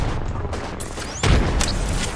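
A grenade blast in a first-person video game, a sudden loud boom with a rumbling low tail that fills the rest of the short moment, following quieter game noise.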